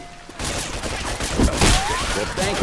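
Rapid gunfire rattles almost continuously in a zombie video game, loud and dense bursts layered with game noise, while a voice speaks underneath.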